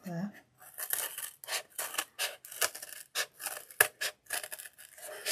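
Scissors cutting through material in a run of quick, close snips and rasping slices, irregular in rhythm and moderately loud, with a few breaks between cuts.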